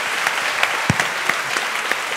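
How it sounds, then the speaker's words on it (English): Audience applause for Dame Diana Rigg at the Cambridge Union, a steady, moderately loud patter of clapping from a seated crowd with no talk over it. "can we all join together and give Dame Diana a massive round of applause?"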